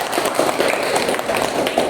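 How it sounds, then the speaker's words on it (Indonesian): Schoolchildren in a classroom clapping their hands together, a dense, steady patter of many overlapping claps at close range throughout. "Tepuk tangan semuanya."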